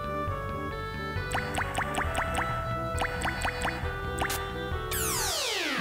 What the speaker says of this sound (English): Water spilled!